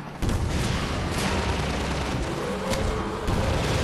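Continuous gunfire and explosions from the video game Half-Life 2, dense and loud throughout, with overlapping shots and booms and no pauses.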